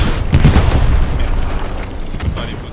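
Enemy artillery falls during a Hell Let Loose match at Foy, with deep, rumbling booms and crackling blasts rolling in the distance under players' voices over team chat.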